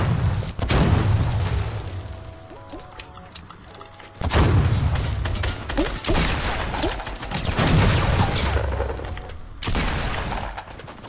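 Booming blasts in Fortnite, with a grenade explosion among several loud, sharp impacts and bursts of gunfire spread through the fight.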